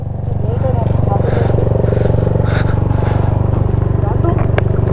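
An off-road vehicle grinds up a steep mountain track near Ratti Gali lake in Neelum Valley on half clutch, its engine loud and close in a steady labouring drone while someone talks over it.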